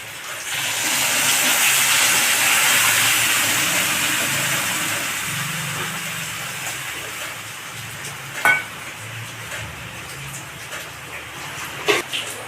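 Water poured onto potatoes frying in a pan for aloo posto, giving a loud, steady hiss that slowly dies down over several seconds, with a couple of sharp clicks near the end and no talking.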